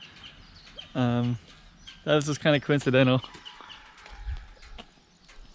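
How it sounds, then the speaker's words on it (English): A rooster crows in an outdoor setting in Garapan, Saipan: one clear crow, then a longer, broken crow close together, with someone talking over and between the calls. "I hear a rooster in the background."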